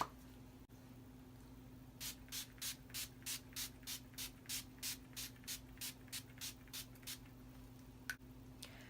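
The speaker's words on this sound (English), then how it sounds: "Going to be using my Urban Decay De-Slick Setting Spray." Rapid short bursts of makeup setting spray, about fifteen in an even rhythm, hiss close to the microphone over a faint steady hum.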